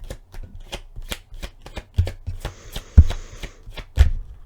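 Tarot cards are shuffled by hand close up, a steady run of crisp riffling slaps and taps with a few heavier knocks, loud and without any speech.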